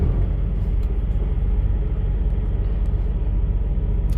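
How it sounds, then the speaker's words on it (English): A truck engine idles up close, a loud, steady low rumble with a faint rhythmic pulse and no talk over it. "Make sure the truck is on. Make sure it's running."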